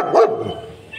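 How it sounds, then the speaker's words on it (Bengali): A single dog gives one sharp, nearby bark that trails off into quiet. "কোন কুকুরের আওয়াজ শুনেছে?"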